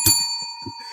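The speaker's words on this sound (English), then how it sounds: "Let's ring the bell for Nate." A bell rung on a sports talk show gives a bright ding with a long steady ringing tone that fades slowly, with faint low thumps beneath it.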